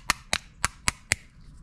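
A hammer taps a metal cotter pin into a hole with five sharp, evenly spaced metallic strikes, close and crisp.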